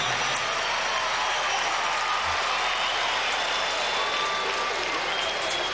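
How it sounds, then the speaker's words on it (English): A large ballpark crowd at an Athletics versus Orioles baseball game roars and applauds a diving defensive stop by Cal Ripken, a loud, sustained wash of cheering and clapping lasting the whole stretch without commentary over it. "the crowd responding to the fine defensive effort of Cal Ripken"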